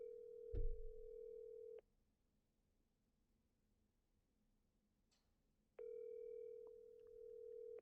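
A steady telephone ringback tone sounds, stops for a few seconds of near silence, then resumes, with a soft bump near the start.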